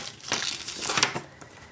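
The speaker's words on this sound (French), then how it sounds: "avec mon X-Acto, je vais aller découper" An X-Acto craft knife cuts through a paper gift card holder, making scratchy, crinkly scraping strokes in a few close bursts, with a sharper rasp near the middle.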